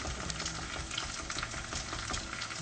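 Food frying in hot oil until crispy, a dense, continuous crackling sizzle at a low, steady level with no voices.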